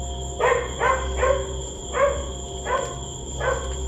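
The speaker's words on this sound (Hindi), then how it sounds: "सिर्फ कुत्तों के भौंकने की आवाजें सुनाई दे रही थीं।" Dogs barking at midnight in a sleeping village: six or so evenly spaced yelping barks, moderately distant, over a steady low background hum, with no voices.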